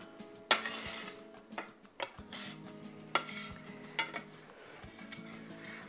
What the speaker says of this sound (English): I'm gonna slide my potatoes into the bowl